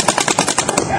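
A rapid burst of paintball gun shots cracks out in a quick, uneven string at close range, with a voice heard alongside.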